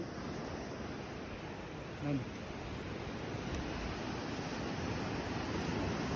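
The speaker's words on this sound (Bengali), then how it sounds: "সুন্দর ঢেউ।" Steady broadband roar of surf washing ashore, continuous and fairly loud, with a brief bump of voices around the two-second mark.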